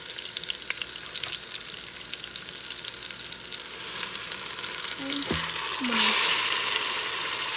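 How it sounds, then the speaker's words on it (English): Pork searing in an Instant Pot gives a steady close sizzle that swells louder partway through, with a short word spoken near the end. "Turn it up on each side. Just sear it a little."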